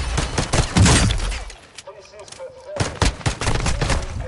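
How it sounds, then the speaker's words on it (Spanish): Rapid bursts of gunfire in a PS4 shooter game, loud and dense at the start, dropping to a brief lull midway before more volleys crackle back in. "¿Cuántos más disparos le voy a dar?"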